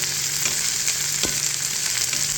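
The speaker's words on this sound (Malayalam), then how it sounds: "ഇഞ്ചി വെളുത്തുള്ളി പേസ്റ്റ് ഇല്ലേ അതുകൂടിയും ചേർക്കാം എന്നിട്ട് നമുക്കെല്ലാം കൂടി ഒന്ന് ഇളക്കി കൊടുക്കാം" Ginger garlic paste, onion and coconut pieces sauté in a pan for a squid curry, giving a loud continuous frying hiss with an occasional soft stir.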